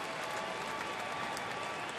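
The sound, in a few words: baseball stadium crowd of over 41,000 cheering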